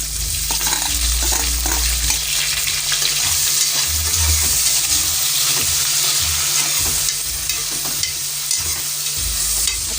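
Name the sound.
tomato and vegetables sautéing in a pan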